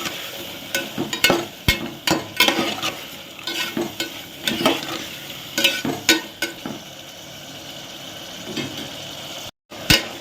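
Tomatoes with salt are stirred in a pressure cooker for tomato rice: uneven scraping and clinking spoon strokes over a low constant sizzle, close up, with a brief gap near the end and no voices.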